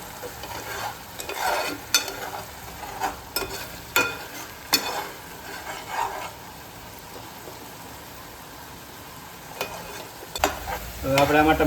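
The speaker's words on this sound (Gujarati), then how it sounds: "કાંદાની પેસ્ટ ઉમેર્યા પછી આપણે થોડુંક એને સડવા દઈશું" Onion paste frying in a pan for a mixed chavana curry, stirred with a utensil in repeated scraping strokes over a steady sizzle, loud and close with a quieter stretch in the middle.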